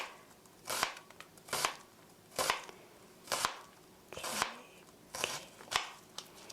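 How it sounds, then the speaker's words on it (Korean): A kitchen knife chops onion on a cutting board for pear fried rice, about seven crisp, evenly spaced strokes, close and fairly quiet against a hushed room. "양파 썰 때 손 조심하시고요."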